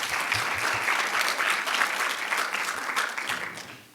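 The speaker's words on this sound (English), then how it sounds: "can we give those students a round of applause" An audience at an education seminar claps for students, a dense burst of steady applause from a moderate-sized crowd that holds for several seconds and then begins to fade.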